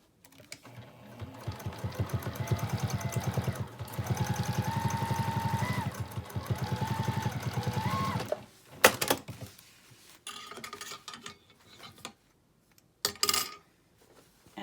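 A sewing machine stitches a fabric pouch shut along a narrow 1/8-inch seam, running in a steady, close mechanical whir for about eight seconds before stopping, followed by scattered handling clicks and fabric rustles.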